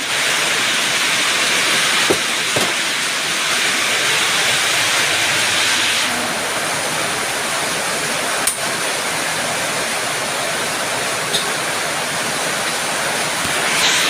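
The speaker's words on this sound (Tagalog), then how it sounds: "Ang lakas ng ulan!" Heavy rain pours down in a continuous loud roaring hiss, steady and unbroken from start to finish, with a few faint knocks and no voices.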